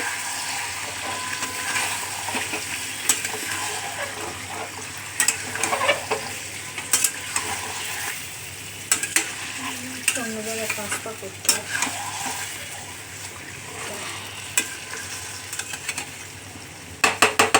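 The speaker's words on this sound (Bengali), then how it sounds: "কষে জল দিয়ে দেবে তাকে একটু কষতে থাকো" Chicken stir-fried in a pan for a thin curry, with water added. A steady, loud sizzle and frying hiss runs throughout, broken by scraping stirs and clanks near the end.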